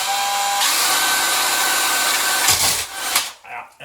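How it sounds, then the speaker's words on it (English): Hole saw on a power drill cutting into drywall during a mobile home light install, a loud steady grinding whine for about two and a half seconds before it cuts out into scraping and rattling. "that hole saw will not stay in place without the drill bit"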